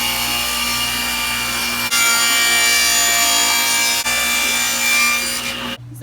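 A table saw gives a loud, sustained whine as its blade rips through wood from a bed frame, running steadily with brief dips as the cut shifts, ending abruptly.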